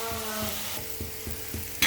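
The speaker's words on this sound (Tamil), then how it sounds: "ஆனியன் இந்த அளவு சாட்டே ஆன பிறகு" Onions sauté in a pan for aloo gobi, making a soft, faint sizzle under a low repeating clatter, with a brighter burst at the very end.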